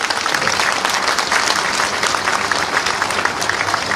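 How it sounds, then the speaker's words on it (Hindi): Loud, dense clapping from a large crowd welcoming guests at a political gathering in Bhopal, holding steady for several seconds with a hint of crowd murmur underneath. "जोरदार तालियों के साथ साथ स्वागत करते रहे।"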